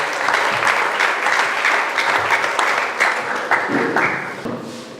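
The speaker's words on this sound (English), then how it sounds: "Please, a round of applause for him once again." A crowd applauds the Commissioner for Education of Oyo State at a school gathering, with loud, dense clapping that runs throughout and eases slightly toward the end.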